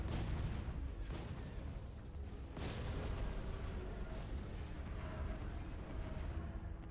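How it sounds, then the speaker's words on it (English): Artillery batteries firing in Empire at War, a space strategy game, making a dense, continuous barrage of overlapping booms and blasts that stays loud for the whole stretch with no let-up. "All batteries fire on the top."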